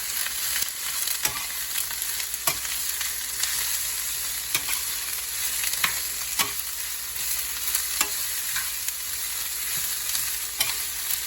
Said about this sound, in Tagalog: Puso ng saging. Haluin na natin.